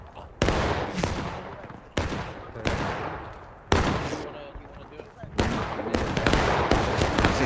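Musket volleys ring out in the video game Front Line Reports, a handful of sharp loud cracks spaced a second or so apart, each trailing into a decaying rumble, with talk in between.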